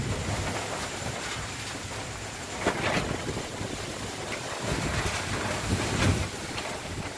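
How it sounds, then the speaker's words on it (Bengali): Strong storm wind roars steadily and close, rising in louder gusts partway through and again near the end, with no voices. "তো চলো তোমাদেরকে কালকে ঝড়টা আমি দেখাই,"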